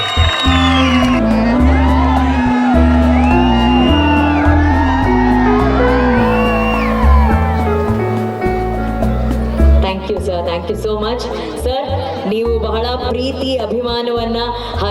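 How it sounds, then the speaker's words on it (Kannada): A crowd at a Kannada stage event cheers, whoops and shouts for Harish, with loud, sustained music and voices running throughout and rougher bursts of applause toward the end. "ಒಂದೊಡ್ಡ ಚಪ್ಪಾಳೆ ಬರಬೇಕು ಪ್ಲೀಸ್ ಹರೀಶ್ ಅವರಿಗೆ"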